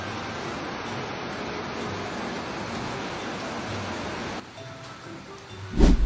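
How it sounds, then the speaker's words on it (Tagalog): Steady, nonstop rain gives a dense, even hiss at close range for about four seconds. It then cuts to a quieter background with a brief clatter at the end. "wala nang tigil yung ulan ngayon"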